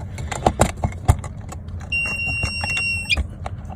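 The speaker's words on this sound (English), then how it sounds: "There you hear the beep" A Tornado Tuning T-Box engine tuning module plugged into a Mercedes-Benz GLE 350d gives a steady high electronic beep lasting about a second, over faint cabin clatter and rustling.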